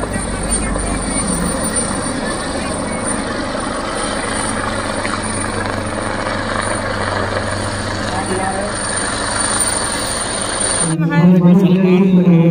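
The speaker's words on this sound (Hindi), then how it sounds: "आप थोड़े हेलीकॉप्टर देख ले तब मैं अपनी बात रखूं" Helicopters pass over an outdoor political rally in Uttar Pradesh, a loud steady rotor and engine roar filling the air for most of the stretch, with crowd noise and a voice rising near the end.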